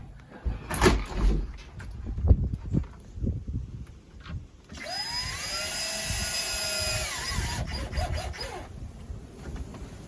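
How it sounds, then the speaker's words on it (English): Power drill driving a screw to secure a solar panel at an off-grid pallet cabin, a steady whining run of about three seconds mid-clip after some handling knocks and rustle. "What we're going to do is just put a screw in there just to hold that solar panel"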